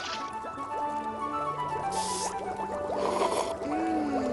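A cartoon magic stone dropping into a pot of soup gives a squishy liquid plop followed by gurgling, dripping sounds, set over light background music.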